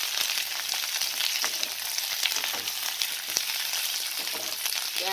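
Chopped capsicum fries in a pan for a paneer dish, a dense, even sizzle that holds steady and close throughout, with occasional faint clicks of stirring and no speech.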